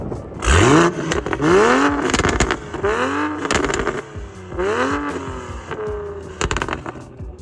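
A Toyota Supra's engine revs hard several times in succession, each rise sweeping up and falling back, very loud and close with a rough idle between bursts.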